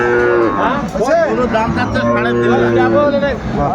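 A dairy cow at a cattle market moos loudly and close by in long, drawn-out calls that fill the whole stretch, over background crowd noise.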